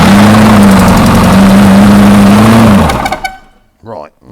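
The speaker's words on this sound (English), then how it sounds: "Certainly spins over better now we've rejuvenated on the starter motor" A 6.2 V8 diesel engine that sat unused for about twenty years turns over on its starter motor with a loud, steady, churning drone for nearly three seconds, then cuts off. Brief voices follow.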